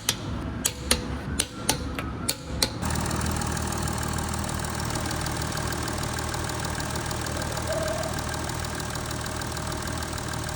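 An Audi 3.0 TDI diesel engine idles steadily after a cold start, with a slightly raised rumble and a faint clatter. It follows a few sharp knocks at the beginning.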